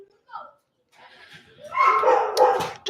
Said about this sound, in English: that's the neighbour's dog barking